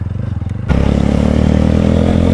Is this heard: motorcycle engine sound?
yes